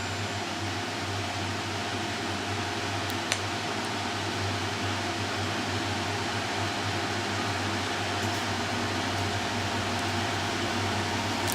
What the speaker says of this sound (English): So the fan starts at high, then I turn it back down to low, and let's trigger the compressor here.